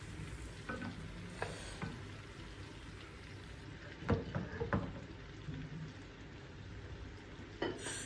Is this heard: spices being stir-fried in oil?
yes